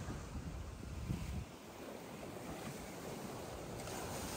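High-tide waves surge and break against a rock barrier on Boa Viagem beach in Recife, a steady loud roar of churning surf with gusty wind buffeting the microphone throughout.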